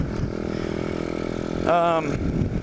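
Pit bike engine running in third gear, a steady close buzzing drone that briefly rises to a sharper higher whine near the end; a voice speaks over it.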